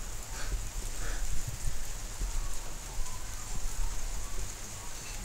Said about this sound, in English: Today's a very rainy day, as you can see.